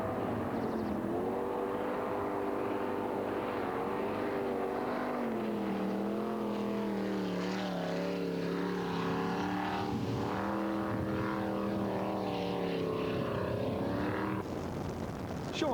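Jet boat racing along a river during the 2004 New Zealand Jet Boat Marathon, a steady, loud engine roar with rising and falling pitch as the boat runs at speed, continuous throughout and then dropping away briefly near the end.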